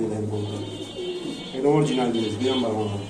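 Soft, low pigeon coos repeat close by at a pigeon seller's while someone talks over them throughout.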